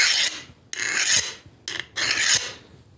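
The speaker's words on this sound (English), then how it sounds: "now that file is not digging in, and it's skating right across the blade" A hand file skates across a hardened steel knife blade after heat treating, giving four close, dry rasping strokes in a quick back-and-forth rhythm, with no voices.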